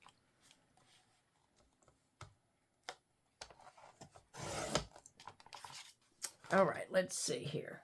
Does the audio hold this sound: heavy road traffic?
no